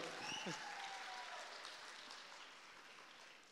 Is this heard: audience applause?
yes